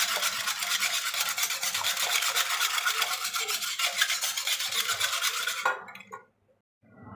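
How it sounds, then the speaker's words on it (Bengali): Yogurt whisked into milk in a bowl for homemade curd. The whisk scrapes against the bowl in a fast, steady, close rhythm for several seconds, then stops abruptly, leaving near silence. "এরমভাবে ভালো করে আমি কিছুক্ষণ এটাকে ফেটিয়ে নেব, যাতে সম্পূর্ণ দইটা দুধের সাথে, পুরো দুধটার সাথে মিশে যায় ভালোভাবে।"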